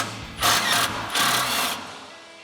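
An 18mm socket on a power tool spins the sway bar end link nut off a Ford F-150 suspension in two short, buzzing mechanical bursts close by, with brief quiet between them.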